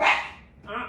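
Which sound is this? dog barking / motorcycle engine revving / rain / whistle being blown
dog barking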